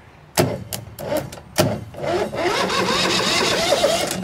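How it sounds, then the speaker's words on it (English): A 2006 Mud Buddy surface drive boat motor with a 23 HP Briggs Vanguard V-twin engine cranks over after a few sharp clicks, the starter churning loud and steady close up. "we're getting engine turnover there"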